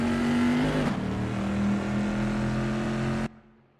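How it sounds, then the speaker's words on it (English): Bizzarrini race car pushed hard at Imola, a loud strained engine roar with shifting pitch as it changes gear, then cutting off abruptly into near silence. "That car is really unsettled from being pushed for every last bit of speed"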